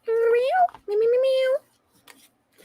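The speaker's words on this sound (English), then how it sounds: "I love kitty cats." A cat gives two drawn-out meows in quick succession, close and fairly loud, followed by a few faint soft sounds.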